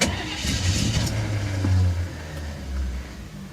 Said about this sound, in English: Gotta love the sound of that old starter.